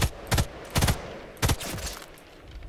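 Machine gun fire in the video game Sniper Elite 5: three sharp bursts of rapid automatic shots, loud and close, spaced about half a second apart, then fading into ambient noise.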